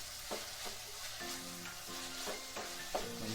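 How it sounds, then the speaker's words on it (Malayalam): Onions and slit green chillies sizzle in a pan for a soybean roast, with close, rhythmic knocks and scrapes as a spoon stirs them through the hot oil. "നന്നായി ഇളക്കി കൊടുത്ത് ഈ ഉള്ളിയൊക്കെ നല്ല ചുവപ്പ് കളറാവുന്നവരെ, ബ്രൗൺ കളറാവുന്നവരെ നന്നായി ആക്കാം"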